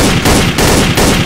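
Rapid, loud rifle fire from a first-person shooter video game rattles off in a dense burst of close shots for about a second with no voices.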